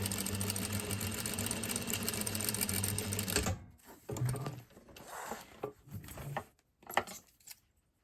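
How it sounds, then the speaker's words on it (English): Sewing machine stitching a seam, sewing an exposed zipper, with a steady close whir for about three and a half seconds, then short stops and starts with light clicks as the stitching backtacks. "just sew your seam, be sure and back tack"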